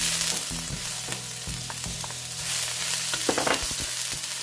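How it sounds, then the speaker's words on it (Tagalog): Ginger sizzles and crackles steadily in olive oil in a pan, a continuous close frying hiss with small pops and clinks of stirring throughout. "we will put a little bit again of olive oil. And then we will now put our ginger."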